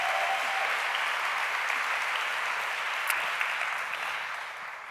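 Steady audience applause fills the room at a fashion talk event, a dense wash of many hands clapping at even loudness throughout, with no voices over it.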